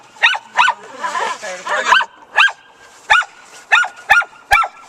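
A dog barks repeatedly, sharp and close, in a steady series of separate yaps, with a brief stretch of talking partway through.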